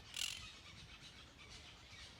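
Parrots call at a marina inside a large tourist resort: one brief, shrill squawk near the start, then only faint, steady outdoor ambience.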